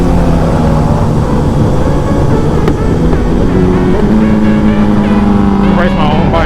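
A Kawasaki ZX10R sport motorcycle engine drones loudly and steadily at a rider meet-up, its pitch climbing in a rev toward the end, with a voice talking over it.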